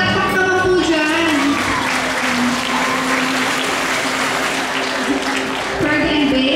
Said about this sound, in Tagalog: Palakpak naman po dyan.